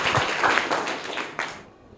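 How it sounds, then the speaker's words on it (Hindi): Schoolchildren and a room of listeners at a school quiz clap briefly for a correct answer. The applause is a short, fairly close patter of hands that fades out quickly. "जोरदार तालियां इनके लिए"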